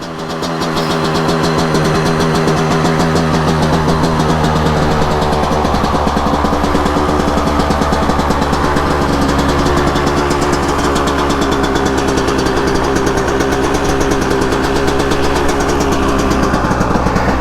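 A KTM two-stroke dirt bike engine idles steadily nearby, a loud, continuous burbling putter with an even rhythm and no talking.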